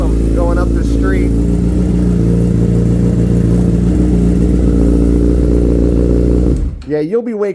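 A 2015 Honda CBR1000RR litre sportbike fitted with Two Brothers exhaust pipes idles and revs loudly and steadily up close for several seconds, then cuts off as people begin talking.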